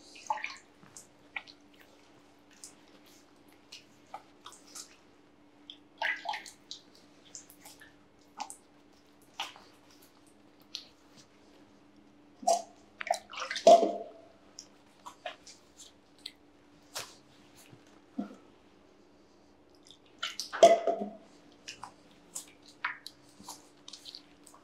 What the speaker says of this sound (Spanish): Después, lavarse el brazo con el codo 3 veces.